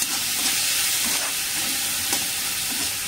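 Cooked rice fries in a hot pan with onion, a loud, steady hissing sizzle throughout with faint scraping stirs and no talking.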